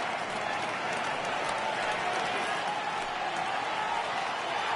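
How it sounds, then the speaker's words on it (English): Baseball crowd in MLB The Show 18 rising on a full 3-2 count late in a Marlins home game, a steady dense roar of cheering and applause that holds at an even, loud level throughout. "Crowd gets up for the 3-2."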